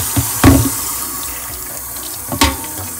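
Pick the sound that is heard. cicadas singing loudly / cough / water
water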